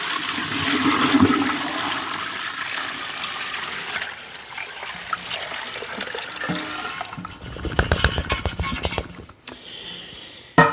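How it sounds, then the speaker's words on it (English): Brine poured from above over a turkey in a 22-quart plastic bucket, a steady rushing, splashing water stream that sloshes and gurgles as it fills, close, ending with a few thumps and drips. "I'm going to pour the brine over the top of this."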